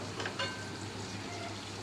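Oil crackles and sizzles steadily with faint bubbling as stuffed semolina sweet puris fry in a small wok, a continuous close frying sound with no voices.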